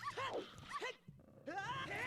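Puppy bark sound effect used for the hover boots in an Ocarina of Time randomizer race, a run of short high yips and whimpers, loud and close, with a brief pause midway.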